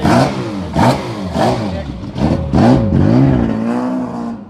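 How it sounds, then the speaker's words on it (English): A Mini racing car from the Mini 7 Racing Club circuit at Thruxton runs close by, its engine note rising and falling as it revs through the gears, with a commentator talking over it throughout. "We've got a beautiful mini coming down here now"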